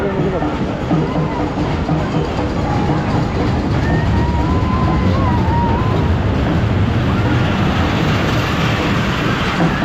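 A train running past during the Mhasa fair; a loud, continuous rumble fills the whole stretch while people talk nearby.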